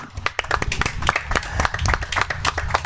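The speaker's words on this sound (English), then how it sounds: "we're going to give you another round of applause" A live audience claps at a talk-show event, a dense run of individual claps close by with some cheering and voices mixed in, steady for a few seconds.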